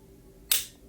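A single crisp click from the custom trigger of a Polymer 80 pistol resetting, sharp and close against a quiet background.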